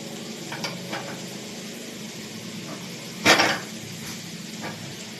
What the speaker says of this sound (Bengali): এক পাশে আলু কুমড়ো ভাজা করছি আর একদিকে রুটি করছি।